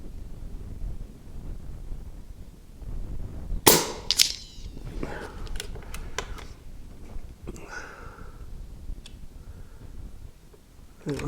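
Brocock Bantam Sniper HR air rifle fired at a 75-yard target outdoors, one sharp close crack followed by a few smaller clicks and metallic ticks over a low wind rumble.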